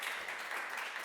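An audience claps to welcome speakers at a craft talk, a brief, even patter of applause at moderate distance with no break.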